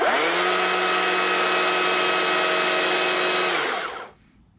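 A chainsaw cutting an eye groove into a wooden bear carving runs at a loud, steady high-revving buzz for about four seconds, then drops off quickly as the throttle is released.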